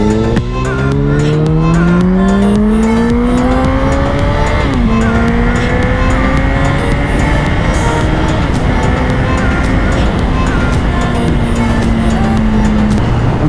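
Cars race along a road, including a BMW with a spoiler, as a loud, steady engine roar climbs and drops in pitch through gear shifts, with a second motor droning close by.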